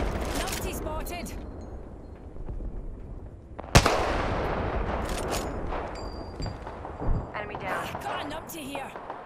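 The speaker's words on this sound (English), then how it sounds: "Getting shot at." Gunfire in the Apex Legends battle royale shooter crackles in bursts, with one sharp, loud shot near the middle and fainter exchanges around it, mixed with game noise and voices.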